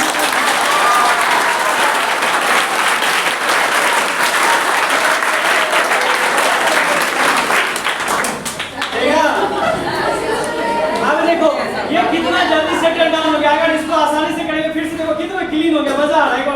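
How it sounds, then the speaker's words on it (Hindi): Children in a class 6 science activity break into dense, lively hand clapping that lasts about eight seconds, then gives way to excited chatter and talking. "ताली बजाओ इसके लिए।"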